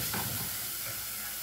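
Golden onion sizzling in olive oil with Worcestershire sauce just added, a loud, steady close-up frying hiss with light stirring scrapes and no talking.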